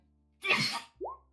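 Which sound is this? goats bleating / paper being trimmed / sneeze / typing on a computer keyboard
sneeze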